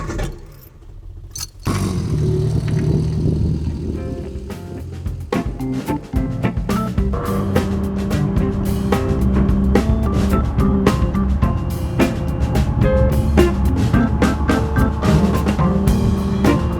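A 1977 Mini's engine on a test drive: after a brief quiet start it starts up and drones steadily, loud and close, with rattles, clicks and road noise throughout.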